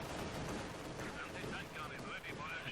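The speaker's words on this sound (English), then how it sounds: "letting the anti-tank gun getting some free shots off" Anti-tank gun shots in Company of Heroes 2, a World War II strategy game, dense and continuous battle noise with heavy booms and crackling small-arms fire, loud throughout the clip.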